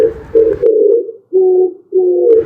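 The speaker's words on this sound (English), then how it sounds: "I am pigeon." A pigeon coos in three close, low, rounded phrases, loud and near, with short pauses between them.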